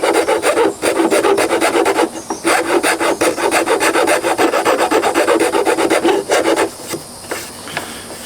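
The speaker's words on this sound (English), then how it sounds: "we're just going to work it nice and slow with some files" Steady, rhythmic rasping of hand files working a wooden guitar headstock on a Telecaster-style kit, close and loud, with repeated back-and-forth strokes and a few brief pauses, no talking.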